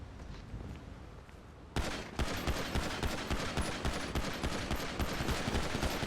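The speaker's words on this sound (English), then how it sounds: "Shots by officer on offender." Rapid bursts of gunfire from officers ring out in a video game, starting with a faint shot or two before a loud, dense volley of repeated shots continues without pause.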